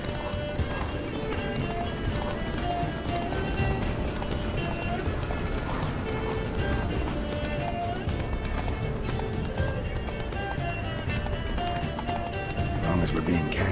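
Roach, the horse in The Witcher 3: Blood and Wine, gallops with continuous rhythmic hoofbeats over a steady game ambience, with voices talking throughout.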